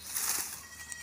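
Goat and her newborn kid bleating nearby, a faint high thin cry against hissy outdoor farm background, brief and not very loud.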